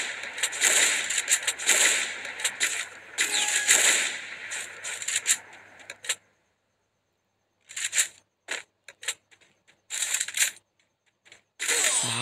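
Gunfire in a shooting video game, with dense rapid bursts of shots in the first half, then silence, then scattered shorter volleys and single shots, loud and close.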